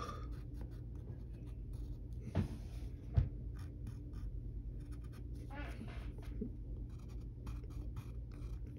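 Pencil scratches across paper in short strokes while sketching curves and a triangular shape for a drawing of Raven from the DC Universe, soft and close under a steady low hum, with a couple of sharper taps along the way.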